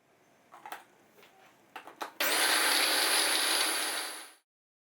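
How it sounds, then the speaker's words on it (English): A few clunks and clicks, then a food blender motor whirs loudly and steadily for about two seconds, mixing flour and suet, before winding down and stopping. "Add the suet to the food blender."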